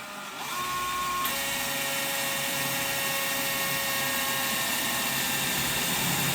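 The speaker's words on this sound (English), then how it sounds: "Now we're gonna drill the hole for the harness." A power drill spins up and runs continuously with a steady whine and grinding hum, drilling a harness hole in an electronics mounting panel, close and loud, no voices.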